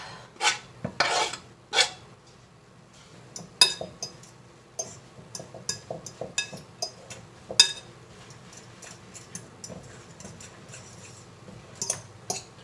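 Cauliflower pizza crust mixture and minced garlic being mixed in a bowl, with repeated scraping, rasping strokes and light clinks of utensil against the bowl, close and irregular, with no talking.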